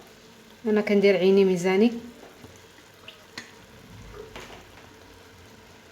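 Gazelle meat sizzling as it fries in oil, a soft continuous crackle in the background while a person talks over it at first, then lighter scattered sizzling and small clinks.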